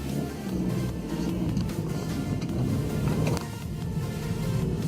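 Volvo C30 hatchback with a steady engine hum and road rumble from inside the cabin as it swings through a tight turn, the sound holding fairly even and close throughout.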